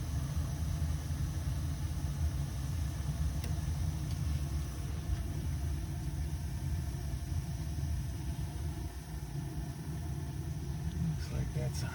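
A residential gas boiler burner runs with a steady low roar and rumble, a continuous dense hum filling the space at close range without pause.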